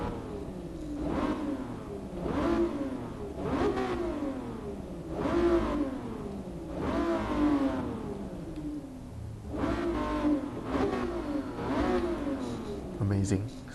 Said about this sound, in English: let's give this car a rev